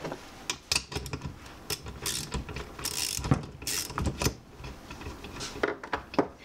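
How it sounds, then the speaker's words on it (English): Ratchet wrench clicking while a chainsaw's spark plug is loosened and removed during a clutch replacement, a close run of quick pawl clicks in short uneven bursts with no talk. "in order to get this clutch off, we need to stop the piston from moving on the inside, and to do that, we're going to remove spark plug"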